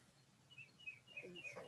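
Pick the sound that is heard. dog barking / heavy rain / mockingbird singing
mockingbird singing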